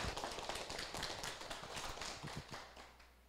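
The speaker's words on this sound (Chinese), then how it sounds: "请掌声欢迎，谢谢。" Audience applause welcoming a speaker to a lecture at a law academy class: a steady, dense patter of many hands clapping at moderate distance, fading slightly near the end.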